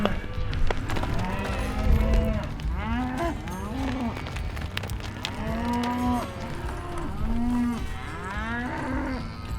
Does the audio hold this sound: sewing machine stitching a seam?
no